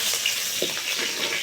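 Five-spice, two dry chillies, a bay leaf and three green chillies sizzle in hot oil, a loud, steady crackling fry with small pops close by and no talk.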